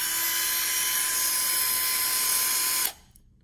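An Astro 3027 12V cordless 3-inch mini pistol polisher with a brushed motor whines at a steady high pitch, loud and close, then cuts off abruptly as the trigger is released, leaving near silence.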